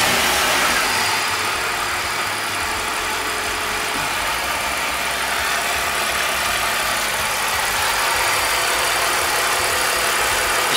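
A car engine idles steadily after an oil change and an additive treatment, a constant mid-pitched hum with a faint knocking texture, close and loud throughout with no speech.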